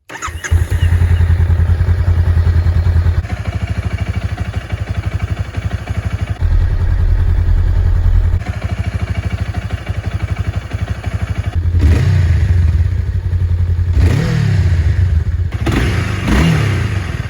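A Honda Rebel 500 parallel-twin motorcycle engine runs steadily with a deep, throaty pulse, close and loud, then revs up in several rising bursts toward the end.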